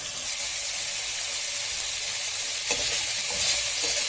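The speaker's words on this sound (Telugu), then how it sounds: "ఇది కూడా వేసి కొంచెం సేపు ప్లేట్ పెట్టి ఫ్రై అవ్వనివ్వాలి." Ginger garlic paste sizzles and fries steadily in a pan while a mint rice dish is cooked, with a constant hiss and a few brief stirring scrapes near the end.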